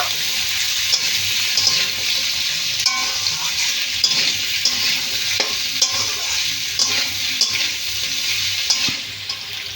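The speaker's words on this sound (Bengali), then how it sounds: "আলুগুলো আবার একটু বেশ ভালো করে পেঁয়াজের সাথে ভেজে নেব" Potatoes and onions fry in a pan with constant oil sizzle, broken by frequent scraping strokes of a spatula stirring them. The sound stays close and steady, with no talking.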